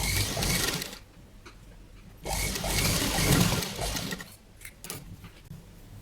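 A sewing machine runs in bursts while stitching a padded katori blouse, long loose tacking stitches, with a pause near the two-second mark before a louder, steady stretch of whirring and ticking close by.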